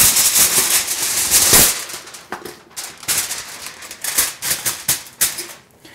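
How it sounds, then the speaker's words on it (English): Aluminum foil crinkles and crackles loudly close by as it is handled and wrapped around food, in bursts of sharp rustling with short pauses between. "throw this in some aluminum foil"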